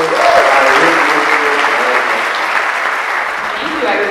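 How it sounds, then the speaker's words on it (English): A concert audience at a school district spring jazz concert applauds steadily, a dense, loud wash of clapping that holds level throughout with faint voices mixed in. "Could you please give a big round of applause to Ms."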